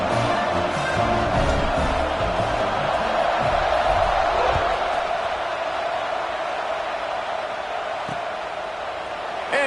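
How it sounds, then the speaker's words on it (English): Football stadium crowd just after a score, a dense, continuous roar of voices and cheering that swells in the middle and stays loud throughout. "this crowd is buzzing after that last score."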